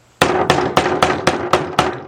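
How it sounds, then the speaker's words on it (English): A hammer taps repeatedly in quick, regular succession, driving in an engine seal during a Chevy Equinox engine rebuild, seven firm knocks close by with a slight metallic ring after each. "you notice I'm taking the hammer and I'm going around to get that seal in perfect"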